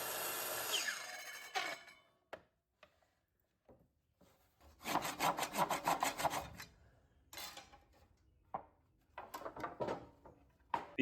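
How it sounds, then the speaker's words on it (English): Handsaw cutting wood at a 30-degree angle for a bed build, rhythmic rasping strokes in a quick burst, preceded and followed by scattered scrapes and knocks. "But I made the cut and finished it with the handsaw."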